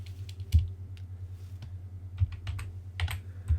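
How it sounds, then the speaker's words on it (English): Quick bursts of keystrokes on a computer keyboard as a word is typed into a spreadsheet formula, with a low steady hum beneath the clicks and no talking. "So I'm going to type in the word trim,"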